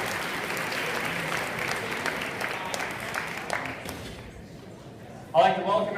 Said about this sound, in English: one more nice round of applause